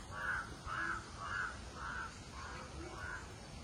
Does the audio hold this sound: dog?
no